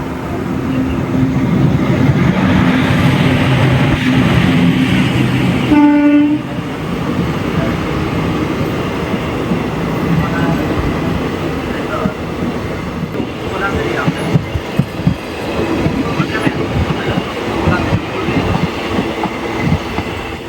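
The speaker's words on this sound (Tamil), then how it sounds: "பாலக்காடு எக்ஸ்பிரஸ் கிராசிங்காக இப்போ நம்மளை வியாசர்பாடி ஜீவால ஓரம் கட்டியிருக்காங்க. அவன் ஆப்போசிட்டில் வராங்க." Palakkad Express rushing past on the opposite track near Vyasarpadi while a waiting train stands aside: a loud steady roar with a short horn blast around the sixth second, then rumbling wheel clatter and clicks continuing to the end.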